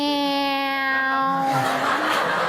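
A human voice imitates a sad, pained cat meow: one drawn-out, falling, nasal wail that fades into breathy noise, heard close and loud with no other sounds.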